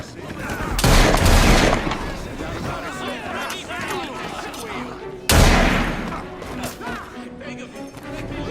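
Bursts of gunfire in the video game Assassin's Creed Syndicate, two loud volleys several seconds apart, with voices and game sounds in between.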